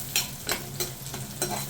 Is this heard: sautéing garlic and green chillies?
yes